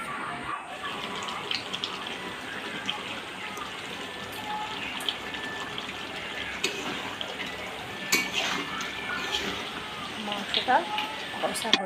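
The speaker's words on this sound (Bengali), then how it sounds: "মাংসটা কষা হচ্ছে।" Chicken meat braising and frying in a pan in a home kitchen gives off a steady, close sizzling hiss, dotted with light clinks of utensils, while voices murmur faintly nearby.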